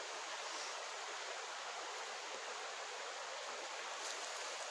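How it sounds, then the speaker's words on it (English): A brook flows through the North Maine Woods near Fall Brook Falls in autumn, giving a dense, steady rushing hiss of running water that stays even and unbroken throughout. "I can show you a little bit of the brook here."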